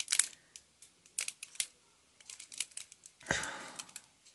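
Crisp snipping and crinkling as scissors cut plastic packaging, a series of short sharp cuts up close, followed by a louder rustling crunch.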